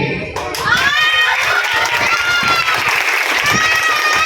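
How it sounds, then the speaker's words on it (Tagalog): A crowd of parents and children at an elementary school charity ride event claps and cheers loudly, with children's shouts and chatter mixed through the sustained applause. "Palakasan ng palakpak."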